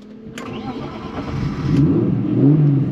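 A BMW E36 325i turbo engine, newly rebuilt with Maxpeedingrods connecting rods, struggles through a start and rises into a short rough rev, close and loud, with a sharp click or two.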